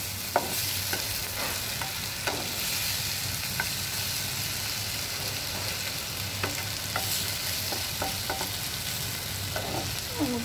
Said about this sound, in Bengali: এখন আমি এটাকে একটু নেড়ে দেব